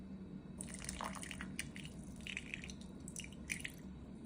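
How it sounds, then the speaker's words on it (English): Water trickles and drips into a jar holding sourdough starter, a soft, close pouring sound with scattered splashes over a faint background hum, no voices. "add 15 grams of water to our jar"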